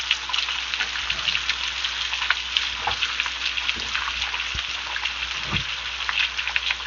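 Beef and bacon burger patty sizzles steadily in a pan, a dense, even crackle with occasional pops and no voices.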